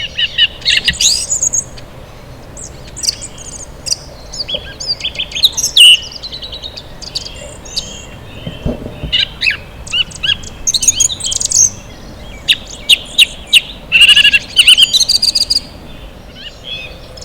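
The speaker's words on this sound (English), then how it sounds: "Listen to the birds." Evening birdsong: birds chirp and sing in scattered bursts over a quiet, hushed background, with several high calls overlapping at times, some near and some farther off.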